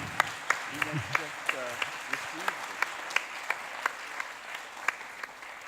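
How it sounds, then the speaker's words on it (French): A round-table audience at a war-film festival gives sparse, evenly spaced claps, sharp and fairly close, while a voice murmurs briefly near the start. "Vous pouvez applaudir Linette"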